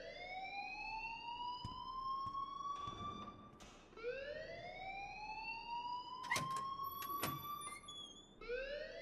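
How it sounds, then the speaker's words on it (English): An alarm in the video game Life is Strange Remastered wails in long rising sweeps, repeating steadily at moderate volume, with clicks and brief knocks between the cycles. "please turn off that alarm since that's your job."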